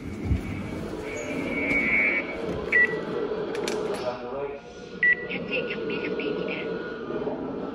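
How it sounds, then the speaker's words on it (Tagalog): A gate security system alarm gives a few short high beeps amid steady background noise and voices talking nearby. "Nag-alarm yung system namin sa gate."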